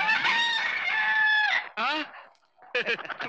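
A rooster crows loudly and close, one long drawn-out call followed by shorter broken crowing bursts after a brief pause.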